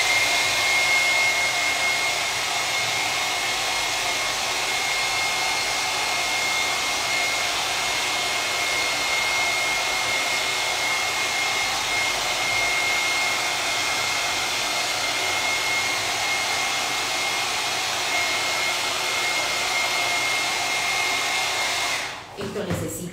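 A hair dryer runs steadily and close by, blowing to dry Folkart Frost Effect paint on glass, a continuous whooshing roar that cuts off abruptly near the end.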